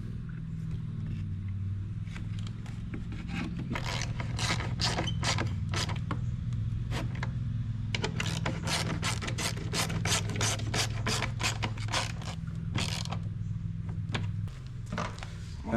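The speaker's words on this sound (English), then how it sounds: "Now I'm gonna install the fan." Radiator fan being fitted into a 1999 Honda Civic: a steady low mechanical hum under a run of close, rapid scraping and ratcheting clicks that bunch together in the middle and ease off near the end.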